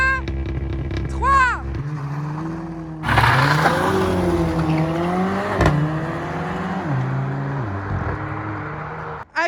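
Renault Clio 4 RS and Mercedes A45 AMG launch in a drag race, engines droning and revving loudly as they pull away, with excited voices talking over the steady engine roar.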